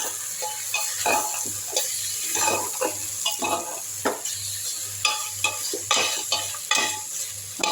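Chicken squeezed dry and sautéed with turmeric in hot oil in a pan, sizzling steadily while a spoon scrapes and stirs in repeated close strokes, with no one speaking.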